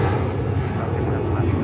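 Lufthansa airliner on runway 13 at JFK in New York, a steady, loud engine roar filling the clip without a break, with a voice talking over it.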